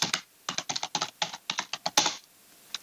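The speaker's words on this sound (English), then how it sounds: "type in the password" A password typed on a computer keyboard in an Excel tutorial, a close burst of about a dozen crisp key clicks in quick irregular rhythm, then a pause and a couple more taps.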